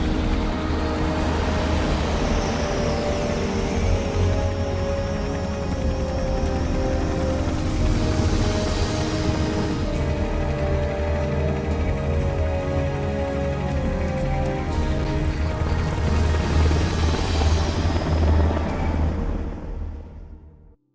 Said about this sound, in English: Oh, they got a helicopter now.